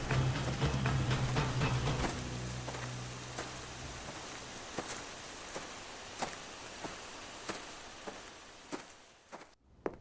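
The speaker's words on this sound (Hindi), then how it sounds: "जोरदार बारिश होने लगी।" Steady heavy rain during a storm, a dense, constant wash of falling water with scattered sharper drops and taps, filling the whole stretch before cutting off abruptly at the end.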